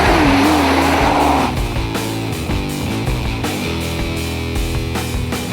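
A 2017 Nissan GT-R engine and exhaust roar loudly and steadily, with rising revs and a brief squeal at the start, then a continuous pulsing drone.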